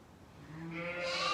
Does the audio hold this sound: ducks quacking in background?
no